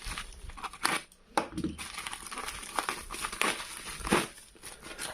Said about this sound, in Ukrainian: Відкриємо цю посилку.